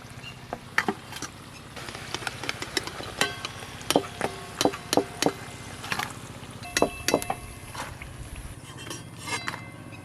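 Palm fruit saptapuri pitha frying in hot oil: a steady low sizzle runs throughout, broken by sharp clinks and taps of a utensil against the pan at irregular intervals.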